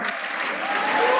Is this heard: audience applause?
yes